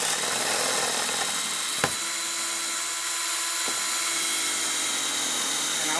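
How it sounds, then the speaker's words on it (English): Power drill boring into round metal stock held in a vise, a steady high whine with a couple of sharp clicks, close and loud throughout. "Get that started so that my drill bit doesn't walk all over that round metal."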